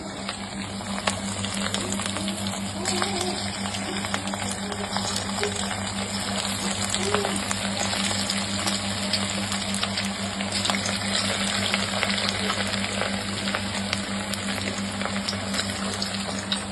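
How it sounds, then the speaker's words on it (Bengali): Pepper-marinated pieces laid one by one into a hot wok over a full gas flame, a steady bubbling sizzle with sharp spitting pops over a low hum, close and continuous, without speech. "ওগুলোকে একটা একটা করে আমি কড়াইতে দিয়ে দেবো।"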